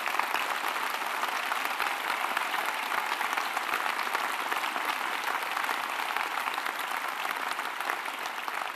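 Steady, sustained crowd applause at a Queensland LNP political campaign launch, a dense wash of many hands clapping continuously throughout, moderately distant with no speech over it.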